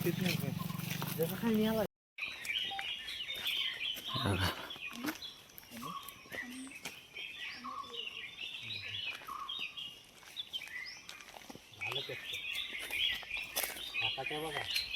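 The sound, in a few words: birds chirping in forest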